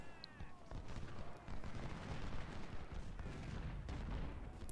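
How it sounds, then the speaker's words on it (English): Musket volleys and cannon fire from a Civil War battle in the strategy game Ultimate General: Civil War, a dense crackling roll of shots with sharper reports standing out, moderately distant and continuous throughout. "Finally, get a volley on McDowell."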